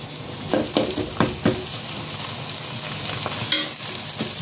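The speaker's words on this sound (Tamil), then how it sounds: "கொஞ்சம் பூண்டு போட்டு சேர்த்துக்கலாம். அதையும் சேர்த்து கொஞ்சம் நேரம் வதக்கி வச்சுட்டு" Garlic sautéing in a pan for nethili fish kulambu, a continuous close sizzle punctuated by several stirring scrapes of a spoon against the pan, with no talking.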